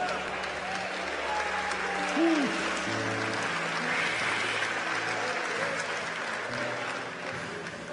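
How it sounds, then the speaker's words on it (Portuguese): A church congregation applauds steadily for several seconds, a dense wash of clapping that stays at an even level throughout, with a few voices faintly audible within the crowd. "Pode aplaudir."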